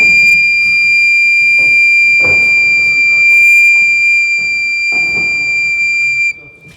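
A steady high-pitched whistling tone from a blown organ pipe, mouth at one end and the other end open, holds for about six seconds, with some breathy thumps and knocks, then cuts off.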